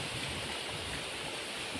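Monsoon water streams down through hillside farm fields in the Sahyadri during heavy rain, an even, soft rushing flow that holds steady throughout with no talking.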